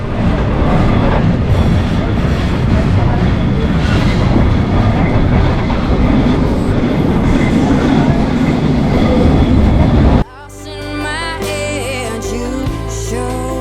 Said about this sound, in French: Le tramway 28 n'est pas ce qu'il y a de plus confortable et silencieux.